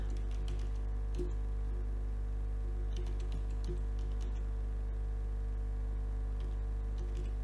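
Keys clatter in quick, irregular bursts on a computer keyboard, close and fairly quiet, over a steady electrical hum.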